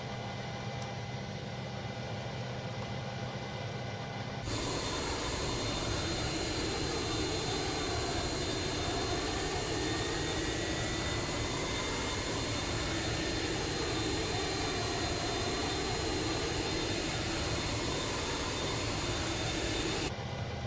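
A Boeing 727's number three engine spools up on an external start in a flight simulator: a steady, loud turbine roar and whine kicks in abruptly, holds evenly with rising tonal lines, then cuts back near the end.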